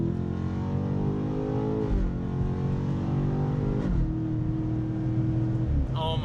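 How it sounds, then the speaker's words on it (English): A 600-horsepower SUV floored at full throttle from a rolling start, engine roaring loud and continuous with rising pitch and gear shifts heard in-cabin, faint voices briefly underneath. "I'm gonna absolutely floor it in Mexico, bro."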